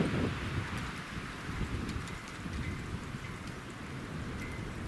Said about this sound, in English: Just some crazy wind.